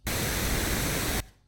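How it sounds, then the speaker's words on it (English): Generated pink noise: a steady, dense broadband hiss that starts abruptly, holds at an even loud level for just over a second, then cuts off into near silence. "let's generate a pink noise this time"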